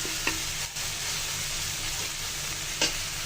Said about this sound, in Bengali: সব কিছু দিয়ে কাঁচা মশলাটা ভালো করে ভেজে নিব